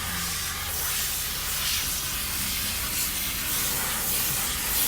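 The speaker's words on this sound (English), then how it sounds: "we are steam cleaning the car. This is high heat steam." A high heat steam cleaner works inside a mold-damaged Honda Accord, giving a continuous loud broadband hiss with slight swells and no pauses.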